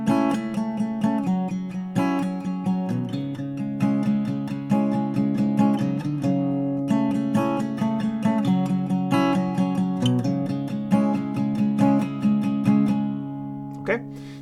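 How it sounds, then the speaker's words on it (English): Acoustic guitar playing a song with a bass line worked into the strumming on one guitar, steady rhythmic strums over low notes, close and clear, no talk. "you can incorporate this bass going on here into the strumming."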